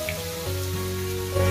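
Masala sizzles in a pan while being sautéed for goat brain fry, a steady frying hiss running alongside sustained tonal hum with no one speaking.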